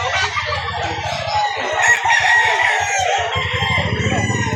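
Rooster crowing loudly and repeatedly among other fowl clucking at a busy chicken market in Lipa City, Batangas, with steady background bustle and no clear talk.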